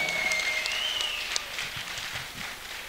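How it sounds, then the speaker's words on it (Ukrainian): An audience applauds an arm-wrestler entering the stage, a steady spread of clapping with a high whistling tone near the start and one sharp clap standing out. "Ваші аплодисменти."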